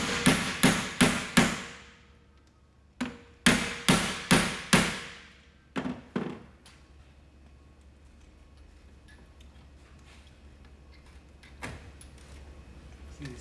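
Sharp percussive knocks, three or four in quick bursts separated by pauses, then a couple of later isolated hits, from work on rusty screws using a Phillips bit held in a 1/4-inch socket on a 1957 car build; no talk.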